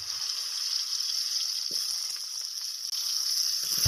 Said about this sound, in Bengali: এবার আমি পেঁপেগুলো ঢেলে দিলাম